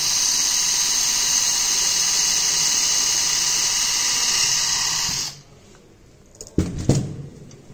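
A surgical drill fitted with a 3.2 mm bit whines at a high, steady pitch for about five seconds as it drills bone, then cuts off. A few short clicks and knocks follow.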